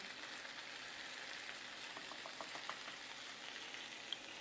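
Lamb chops sizzle in melted butter in a pan, a steady faint crackle and fizz with a few small pops, with no voices.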